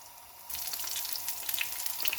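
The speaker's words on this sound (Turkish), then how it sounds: "Şimdi içerisine çiğ böreklerimi atıyorum." Quiet room tone, then a sudden burst of loud, crackling sizzle as potato-filled çiğ börek pastries drop into hot oil in a pan, continuing steadily with popping spatters.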